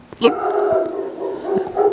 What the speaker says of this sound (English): What are these dogs going off on?